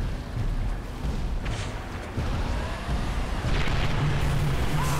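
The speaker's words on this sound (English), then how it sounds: "that cannon shot me" Booming cannon blasts in Halo 3 over a rumbling, noisy background, several loud hits in a few seconds with no speech.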